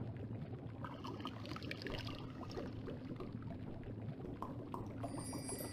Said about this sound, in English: I'll just pour the finished potion into one of these vials.